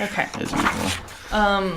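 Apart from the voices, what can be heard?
dog making strange noises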